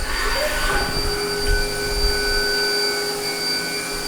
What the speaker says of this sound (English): a Super Mini Mill 2 made by HAAS. We'll go ahead and cycle it, let you see everything running.